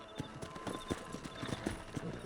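Horse hooves clip-clopping in Red Dead Redemption, a quick irregular run of soft thuds close by, fairly faint, with no talk.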